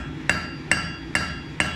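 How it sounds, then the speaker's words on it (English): A hammer strikes metal while forging a Mjolnir pendant, four evenly spaced ringing blows about every half second, each a sharp metallic clang over a low steady background hum. "So you just lay it back and forge that down at an angle."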